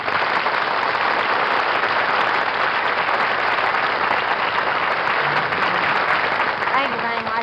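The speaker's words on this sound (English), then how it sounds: "you could all join me in kind of a little round of applause" A studio audience at a 1952 television comedy hour applauds Jerry Lewis, dense sustained clapping that stays loud and even throughout, with a voice briefly emerging near the end.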